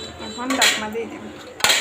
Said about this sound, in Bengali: এখন ঢাকনা দিয়ে দিব